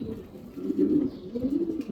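A racing pigeon in a loft gives a soft, low, throaty coo that rises and falls close by, with no talk.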